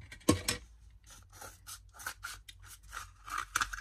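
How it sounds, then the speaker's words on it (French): Scissors cutting through a cardboard toilet paper roll, a quick series of crisp snips and crunchy cuts close up, repeated rhythmically over a few seconds. "Donc là, je vais faire une découpe."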